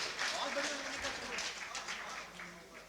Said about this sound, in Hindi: एक जोरदार पीछे तक जोरदार तालियां।